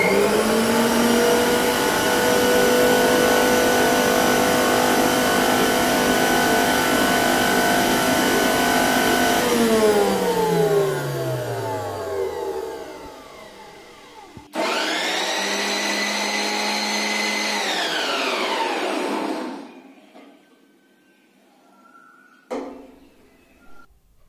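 A Preethi Zodiac mixer grinder chops two large onions, its loud steady whine running about ten seconds before slowing and winding down, then a second burst of high motor whine with a falling pitch, followed by brief clatter.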